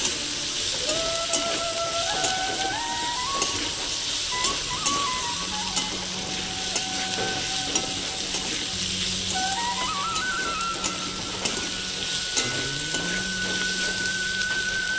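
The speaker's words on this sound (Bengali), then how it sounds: "এবারে দিয়ে আমি ভালো করে এটাকেও ভালো করে ভেজে নেবো, আলুর সঙ্গে কষিয়ে নেবো" Potatoes and grated ginger fry and sizzle steadily in a pan for a samosa filling, with a continuous bright hiss and occasional stirring scrapes, close and loud, no talking.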